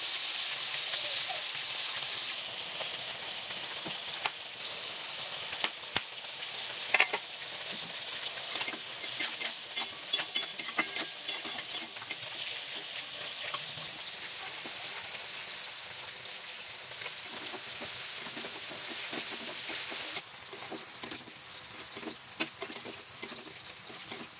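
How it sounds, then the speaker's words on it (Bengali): Fish frying in a pan in a village kitchen, a faint continuous sizzle dotted with sharp crackling pops, no talk. "মাছ ভাজা হচ্ছে।"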